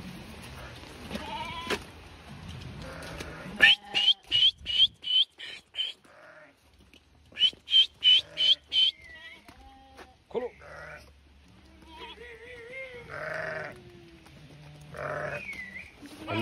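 Sheep and lambs bleat in repeated bursts, some near and loud, others higher and thinner, amid rustling and a few faint voices.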